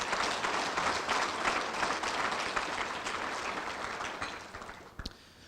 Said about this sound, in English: How about a round of applause for Allison Thomas?